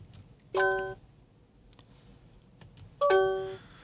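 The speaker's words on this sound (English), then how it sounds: "you heard the audible tone chime through the speakers" A BMW iDrive system sounds its chime through the car speakers: two bright, clear electronic tones about two and a half seconds apart, each sustained with a slowly fading tail inside a quiet cabin.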